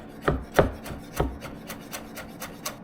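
A knife cuts through food on a board, with several firm chops followed by lighter, quicker cuts in an uneven rhythm, close and clear with no talking.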